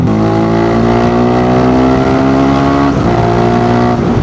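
A Suzuki V-Strom 650 V-twin motorcycle engine with a GPR exhaust revs hard and loud, its pitch climbing steadily before dipping and rising again, close by.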